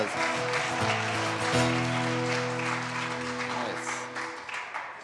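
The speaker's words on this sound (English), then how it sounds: "Give him a round of applause" A round of applause at an album release event, steady clapping throughout, moderately loud, under sustained keyboard or organ chords that end about a second before the clapping fades.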